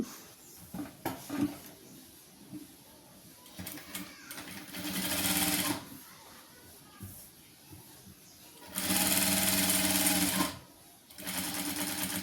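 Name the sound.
sewing machine stitching a churidar nightie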